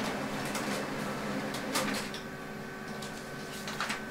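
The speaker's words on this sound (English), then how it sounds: "So let's print the test page. Instantly prints the test page." HP printer printing a test page, a close mechanical run of whirring feed noise with several sharp clicks and clunks spread over a few seconds.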